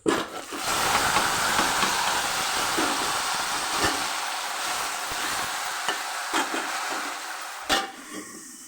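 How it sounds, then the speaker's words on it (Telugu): Spices for tempering crackle and sizzle loudly in hot oil for a bamboo shoot curry cooked outdoors in a forest, a continuous close hiss with a few sharp pops and clinks, fading slightly toward the end. "తాలింపు పెట్టేస్తున్నాం"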